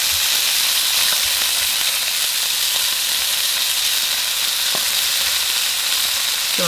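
Leatherjacket fish and halved cherry tomatoes sizzling in hot oil in a pan, a loud, continuous bright hiss with a few small pops and clicks scattered through it.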